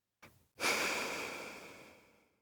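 After a soft short breath, one long audible exhale follows, starting strong and breathy up close and tapering gradually into quiet over about two seconds.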